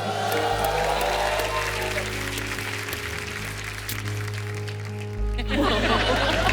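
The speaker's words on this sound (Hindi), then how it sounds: "जोरदार तालियां" Studio audience applause on a comedy talk show stage, a steady wash of clapping with some laughter, mixed under low music tones throughout and swelling again near the end.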